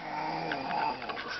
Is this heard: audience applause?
no